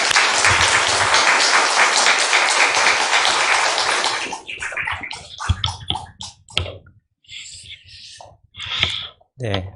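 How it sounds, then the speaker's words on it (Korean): Congregation at a Sunday church service gives warm, dense applause welcoming a pastor, loud and sustained for about four seconds before breaking off into scattered sounds and someone speaking. "뜨거운 박수로 한번 환영하겠습니다"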